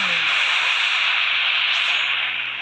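Video game magma shower attack effect: a loud, continuous broadband whoosh like rushing spray or sizzling hiss, sustained without a break for nearly three seconds and easing slightly at the end.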